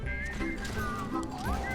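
Horse in Red Dead Redemption 2, a whinny and soft hoof clops close by, mixed under steady game ambience with a faint voice nearby.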